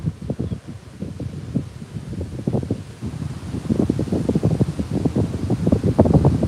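Wind gusting outdoors beside a fishing pond, a steady rushing buffet across the microphone with rustling bursts that build louder toward the end, no speech over it.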